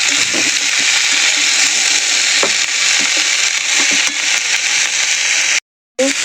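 Broccoli fries in a pan with a steady, loud hiss of sizzling oil and a few soft knocks, continuing until it cuts off briefly near the end.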